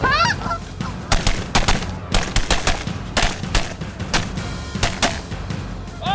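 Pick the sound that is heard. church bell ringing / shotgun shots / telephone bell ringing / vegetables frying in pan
shotgun shots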